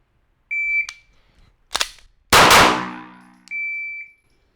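A handgun fires during a malfunction and reload drill, with sharp clanks of the slide being worked and one loud shot trailing into range echo, framed by short electronic beeps of a shot timer.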